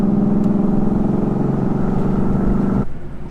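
A 2013 Ford Mustang Boss 302 with its side pipe restrictor plates removed rumbles loud and close at a steady 2,000 RPM while cruising at 30 mph, a deep even drone that drops off near the end.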